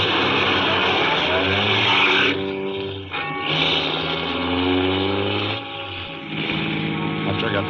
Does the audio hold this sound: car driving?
yes